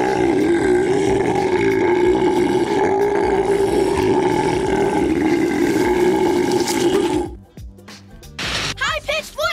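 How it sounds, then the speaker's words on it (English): A long, loud, gravelly belch roars on for about seven seconds before cutting off abruptly, followed by a brief pause and a few short squeaky, chirping sounds. "Belching challenge!"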